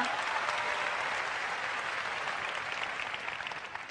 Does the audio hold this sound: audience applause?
yes